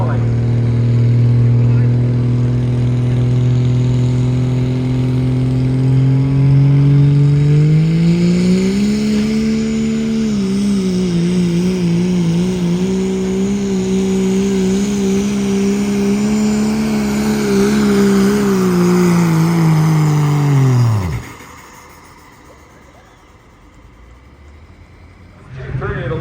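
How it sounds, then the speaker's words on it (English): A boosted pickup truck engine roars continuously at a truck and tractor pull in Palo, Iowa, its pitch climbing and wavering under load before cutting out abruptly near the end, leaving quiet crowd ambience. "Gutterville, Iowa, boosted pleasure truck driven by Curtis Smalling."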